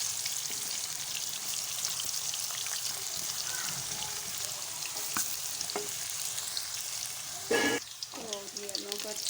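Potatoes fry in a pan with a steady bright sizzle throughout, punctuated by a few utensil scrapes and clinks near the end.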